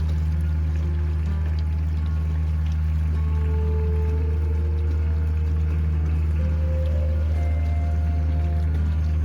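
Spring water pours steadily from a spring box pipe into a bucket, a continuous rushing flow with a steady low hum underneath, heard close and fairly loud, with faint voices nearby.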